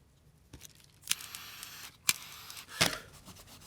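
Scissors snip a few times up close, sharp crisp cuts separated by short quiet gaps, with some rustling between.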